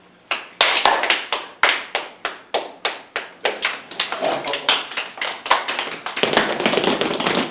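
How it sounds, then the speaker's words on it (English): Loud, sharp hand claps from a group of children, a steady run of distinct hits that speeds up and thickens into overlapping clapping toward the end, close and dominant over faint voices. "Let's do a loud clap."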